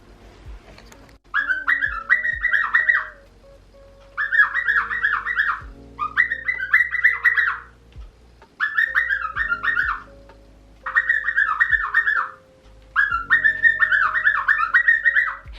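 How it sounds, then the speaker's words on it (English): A bird gives six bursts of bright, warbling whistled chirps, each about a second long, separated by short pauses, close and clear against a quiet room. "Yes, you're a pretty bird."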